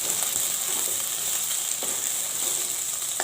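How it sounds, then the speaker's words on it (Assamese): Chopped onions fry in hot oil in a pan, giving a steady, close crackling sizzle with faint stirring scrapes and no voices. "গোটেইখিনি পিঁয়াজ দি দিম, আৰু দি দিয়াৰ পাছত সোণোৱালী ৰং হোৱালৈকে আমি ভাজিব লাগিব।"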